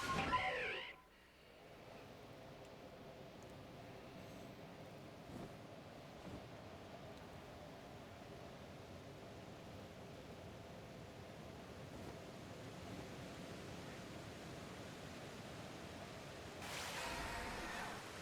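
Waterfall in Pokémon Legends: Arceus, a steady soft rushing wash of water that holds evenly for a long stretch, faint and continuous, with a short louder sound at the very start and near the end.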